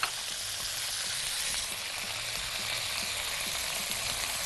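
Chicken pieces and smoked chicken luncheon meat frying in a pan, a steady close sizzle with crackling pops that runs evenly throughout, fairly soft and with no voices.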